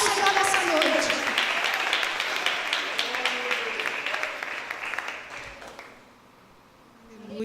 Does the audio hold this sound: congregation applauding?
yes